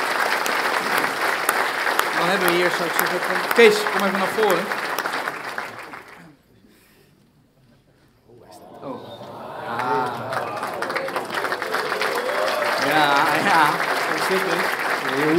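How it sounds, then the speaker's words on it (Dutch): Audience at a New Year reception applauding loudly for an award winner, with talk mixed in over the clapping; the sound drops to near silence midway, then applause and speech return at full strength. "En een groot applaus voor Kees."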